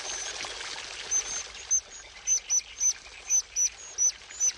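A white-throated dipper calls beside a river: a series of about ten sharp, high chirps repeating at an uneven pace over the steady rush of flowing water.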